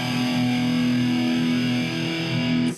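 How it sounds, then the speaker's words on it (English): An electric guitar played through an amp's distortion channel holds a loud, sustained, buzzing note that rings steadily, then cuts off abruptly at the end. "Now if I were to turn it to distortion"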